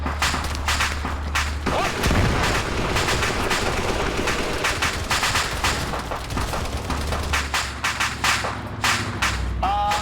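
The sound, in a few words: machine gun fire in a sci-fi video game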